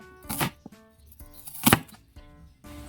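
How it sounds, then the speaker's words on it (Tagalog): Knife chopping onion for a Filipino sinigang na tahong, with two sharp broadband chop bursts over a faint harmonic background hum, close and moderately loud. "hiwa tayo ng sibuyas"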